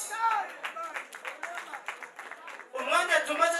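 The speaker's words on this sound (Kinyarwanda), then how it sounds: "mwikomera amashyi" An audience at a Christian wedding celebration claps in a quick, rhythmic burst, with a voice speaking over the clapping at the start and the end.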